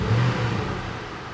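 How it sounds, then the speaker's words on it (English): A vehicle engine revs briefly as gas is applied during a diagnostic-tool check, a loud close swell that holds and then slowly eases off. "Give it a little gas."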